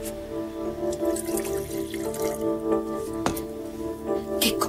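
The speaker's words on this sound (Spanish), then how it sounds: "Llena esto de agua." Tap water running and splashing into a container, a steady close trickle with irregular drips and gurgles, fairly quiet with low background hum.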